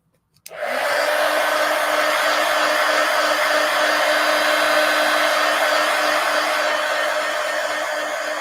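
A hair dryer switches on abruptly and runs steadily to dry a paper collage, a loud even whooshing roar with a faint whine, close by and uninterrupted, no voices.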